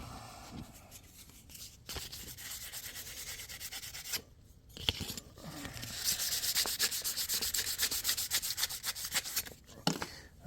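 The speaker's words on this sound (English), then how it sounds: "I'm just gonna kind of hit it with this emery cloth, get any scratches off real quick before we put it on the buffer." Emery cloth rubs over a small metal turn fin from a model hydroplane boat to remove scratches, a close, quiet scratchy scrubbing in uneven back-and-forth strokes with brief pauses.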